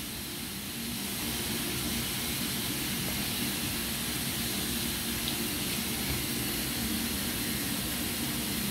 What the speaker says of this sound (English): I would then take the dentures and rinse those